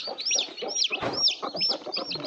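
Free-range village hens cluck softly and repeatedly while their chicks peep in high, thin chirps all around, a close, busy barnyard sound with no talking.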